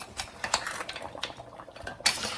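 A garlic butter seafood boil being tossed together in a pot, with scattered clinks and scrapes of a utensil against metal and wet shifting of shellfish, quiet and irregular.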